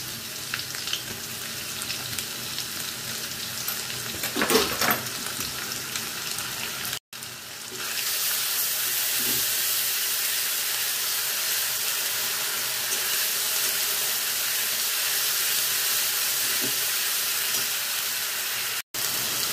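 Onion, ginger and garlic paste masala fries in a pan for a fish-roe kalia, a loud, continuous sizzle with occasional stirring scrapes, growing stronger after a brief cut partway through, with no voices.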